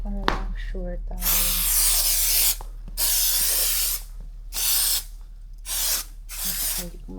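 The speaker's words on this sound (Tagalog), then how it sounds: "So, this is the waterproof spray that I'm using." Waterproof spray is applied to ballerina flat shoes in a series of close, loud hissing bursts, about five sprays of a second or so each, separated by short pauses, with a few soft sounds before the first spray.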